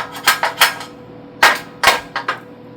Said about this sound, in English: And yes, I'm using my square as a hammer